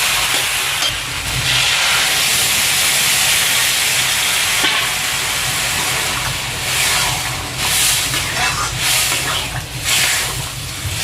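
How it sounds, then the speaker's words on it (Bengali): Water poured into a hot pan of fried soybeans in a fish-head soybean curry, a loud continuous steamy hiss and sizzle that swells and fades, with no one talking. "ভালোভাবে কষানো হয়ে গেছে এবার জল দিয়ে দেবো"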